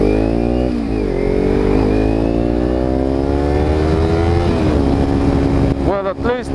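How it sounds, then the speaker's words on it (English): A Kawasaki Ninja 300 motorcycle fitted with an Akrapovic exhaust idles and revs up close, its loud burbling engine tone rising and falling in pitch before a sharp throttle blip at the end. "It has, even the engine sounds different, man. It has some bloop bloop bloop bloop bloop to it."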